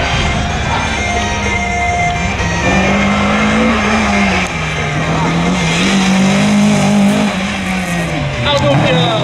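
Race car on a slalom course at Saint-Lô, its engine revving loud and close with rising and falling pitch through the gears, plus brief tire squeals, while an announcer talks over it.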